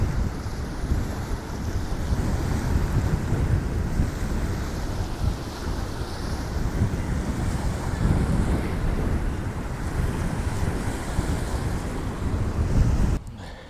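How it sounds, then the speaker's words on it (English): Steady roar of sea surf rolling onto the beach at Old Hunstanton, mixed with gusty wind buffeting the microphone, continuous with no talking. "I will be quiet for a moment and then you can listen to the old waves."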